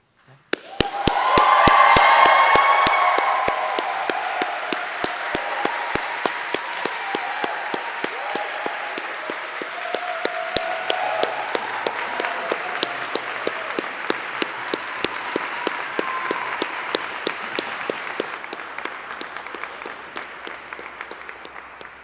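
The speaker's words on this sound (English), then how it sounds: "I'm going to ask you to cheer so loudly that they can all hear us wherever they are" A large graduation audience at a school of music ceremony bursts into sustained applause, swelling quickly to a loud peak and then holding steady with scattered cheers and sharp individual claps for about twenty seconds before tapering off.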